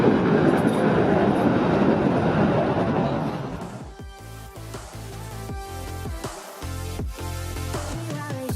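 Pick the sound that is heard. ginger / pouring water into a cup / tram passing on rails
tram passing on rails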